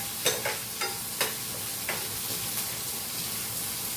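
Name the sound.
onions frying in a pan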